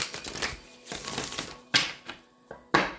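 Tarot cards being shuffled by hand, a run of riffling flutters followed by several sharp snaps and taps as the deck is squared, close and clear without talk.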